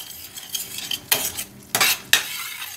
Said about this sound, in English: you want to get your stick of butter and your minced garlic